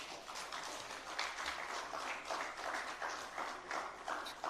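Many hands keep applauding in the audience of a fireside chat on democracy, a dense, continuous patter of clapping that sounds fairly faint and distant, with no clear talk.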